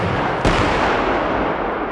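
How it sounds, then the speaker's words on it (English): An AT4 CS anti-armor weapon fires a HEAT round at an armored personnel carrier, giving a single sharp blast early on that rolls into a loud, sustained rumble and roar with no voices. "The AT4 CS round totally demolished the interior of the APC."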